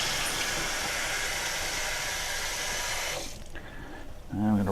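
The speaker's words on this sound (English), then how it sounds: "so we're just going to rinse our hands off here for a moment." Running tap water splashes steadily over hands being rinsed at a kitchen sink, loud and close, then cuts off abruptly, leaving quiet room tone before a brief voice comes in.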